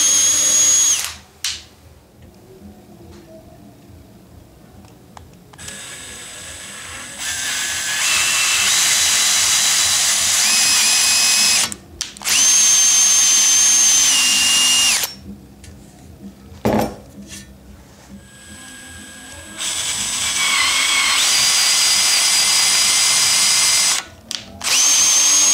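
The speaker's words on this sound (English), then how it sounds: "I'm just using my cordless drill and I have the quarter 20 tap in here" A cordless drill drives a quarter-20 tap through fresh paint in threaded holes on saw guide rails, whining loudly in several long bursts separated by short pauses, with a sharp clank in one gap.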